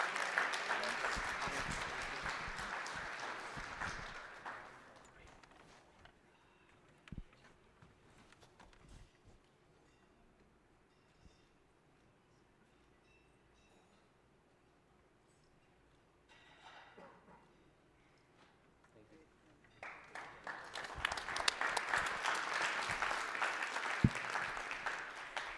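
Audience applause at the Secretary's Golden Shovel Awards ceremony, a broad wash of clapping that fills the opening seconds, fades to near quiet, then swells loud again near the end.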